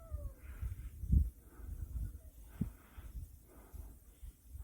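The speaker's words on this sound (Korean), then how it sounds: "고양이들이 자기네들도 죽 달라고 저렇게 나와 있네요." Several cats meow repeatedly nearby, short plaintive calls overlapping one another, with a low rumble of background noise.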